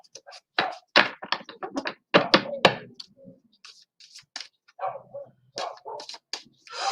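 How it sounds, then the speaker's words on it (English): A dog barks in short bursts at a rubbish truck amid a person's talking, the truck's low rumbling engine faintly in the background. "is barking at the rubbish truck that you might hear in the background"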